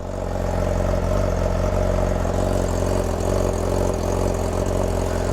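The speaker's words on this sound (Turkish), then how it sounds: "Baksana abi Rolanti'de çok tatlı bir sesi var." A brand-new motorcycle engine idles loud and close, a steady throbbing rumble with an even low pulse and no change in pace.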